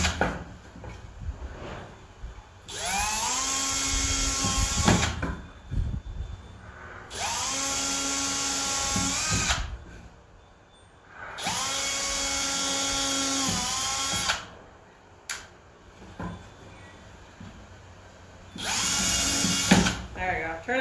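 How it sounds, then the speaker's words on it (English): A power drill bores holes into wood laid over a plastic table in a DIY project, five loud whirring bursts of a few seconds each with pauses between them, close up. "I'm just gonna drill holes in all those marks."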